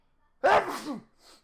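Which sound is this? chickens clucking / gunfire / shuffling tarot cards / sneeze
sneeze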